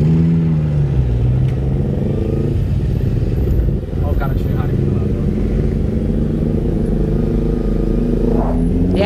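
A Lamborghini accelerating hard along Avenida Europa, a loud, continuous engine drone that swells in pitch toward the end, with voices talking over it.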